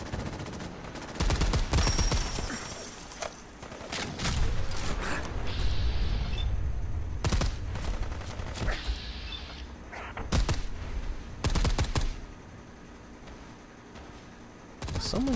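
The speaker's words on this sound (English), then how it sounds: "Someone else shooting me?" Fallout 4 combat with bursts of rapid automatic gunfire, loud volleys clustered around several moments with mechanical clanks and quieter gaps between, no talking.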